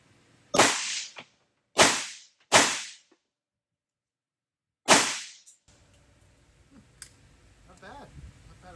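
Four sharp, loud gunshots from a rifle firing 5.45x30 Mars rounds, spaced unevenly over a few seconds, each with a short decaying tail, followed by faint handling clicks.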